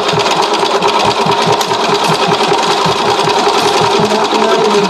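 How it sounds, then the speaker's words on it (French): Sewing machine stitching in place to lock a seam on a zippered pouch, loud, close and continuous, with fast rhythmic needle thumps throughout and no voices. "Quand vous voyez que je pique sur place, c'est qu'en fait je fais un petit point."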